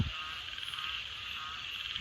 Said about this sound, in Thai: ก็จะได้ยินเสียงกบเสียงเขียนนะครับผม